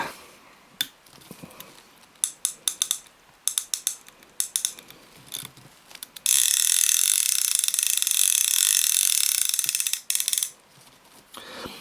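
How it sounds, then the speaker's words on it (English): A Maxel Ocean Max OM5 fishing reel's clicker ratchets in short bursts of sharp clicks, then a fast continuous run of clicking for several seconds before stopping, followed by a few more scattered clicks, close and clear. "Clicker tension on this reel is medium to heavy, without a doubt."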